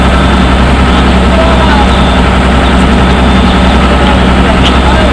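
Tractor engine idling steadily at close range, a constant low rumble filling the clip, recorded beside a road cut by water from Lake Wamala.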